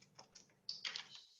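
Keystrokes on a computer keyboard while a text box is filled in a PowerPoint slide: a quick run of close, crisp taps that turns into a denser, louder cluster near the end, with no talk.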